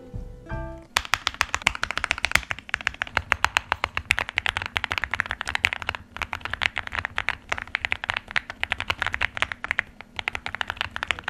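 Rapid clacking keystrokes from a mechanical keyboard with lubed switches and a semi-transparent top case, a busy irregular patter of crisp clicks that continues without pause, close and alone.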